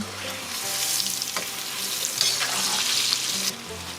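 Oil sizzles and crackles steadily as chayote wedges fry in a pan, with a few louder pops and bursts along the way.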